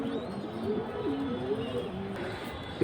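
A female high-flying pigeon coos softly and close by in low, rolling phrases, with a short louder knock at the very end.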